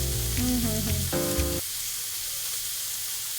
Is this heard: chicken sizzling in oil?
yes